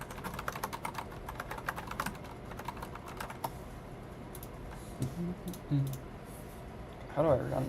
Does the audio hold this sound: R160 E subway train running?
no